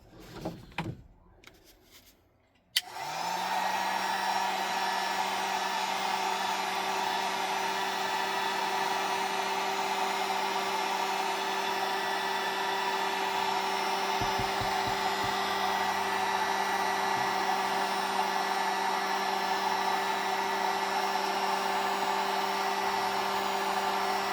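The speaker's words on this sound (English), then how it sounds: "Heat gun, so heat gun noises." A heat gun clicks on after some handling noises and then runs steadily with a continuous whirring fan hum and airy hiss, close and loud, holding unchanged for over twenty seconds with no talk.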